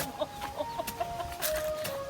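Chickens in a garden give short, scattered clucks, several quick calls close by over faint outdoor background noise.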